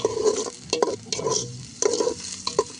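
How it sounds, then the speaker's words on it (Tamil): Onions and tomatoes stirred in a hot pan for a village-style rabbit curry, with rhythmic close scraping strokes over a steady sizzle and no talking. "இது ரெண்டுமே வெங்காயம் வதங்கி வரணும்."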